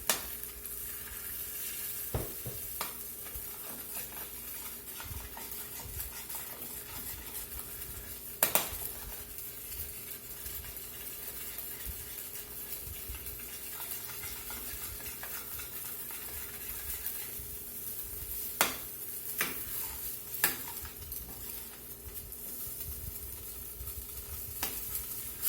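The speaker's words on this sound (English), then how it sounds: "Try to mix it in a little bit at a time so you don't end up with some lumps." Concentrate is stirred into a finely chopped mushroom hunter's sauce in a pan, a quiet continuous simmer with soft stirring and a few sharp utensil knocks against the pan.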